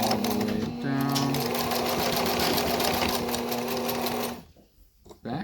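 A sewing machine runs steadily and loud through a back stitch and then forward stitching along a fabric edge while sewing a mask, the motor whirring for about four seconds before stopping, followed by quiet handling sounds.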